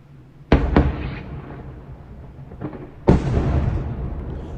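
Two heavy, distant mortar explosions a few seconds apart, each a sharp thud with a rumbling tail, over a quiet outdoor background near a destroyed dam in the war in Ukraine.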